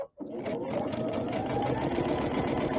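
A sewing machine with digital dual feed runs straight-line quilting, a steady rapid mechanical whirring that starts after a brief pause and keeps going without a break, close and fairly loud.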